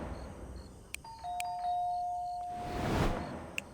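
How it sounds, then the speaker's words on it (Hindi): A doorbell chimes with a two-tone ding-dong, fairly clear and close, amid a few faint clicks in a quiet room. "डोरबेल बजाई थी।"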